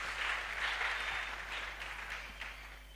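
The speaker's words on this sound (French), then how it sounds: "Let's clap for the Lord." A church congregation claps for the Lord during a bilingual French-English Bible study, a dense, continuous wash of many hands applauding that fades gradually toward the end.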